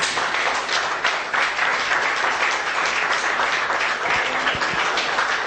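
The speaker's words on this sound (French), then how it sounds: "Mesdames, Messieurs, on l'applaudit comme il se mérite." Audience applause at a televised Congolese music event, steady and loud throughout with dense clapping filling the whole stretch, no voices over it.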